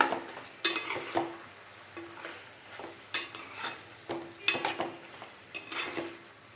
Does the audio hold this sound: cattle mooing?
no